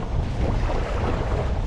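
Steady, heavy wind gusting across Guntersville Lake buffets a paddle fishing kayak, with a constant loud roar and rumble of wind and water running unbroken throughout.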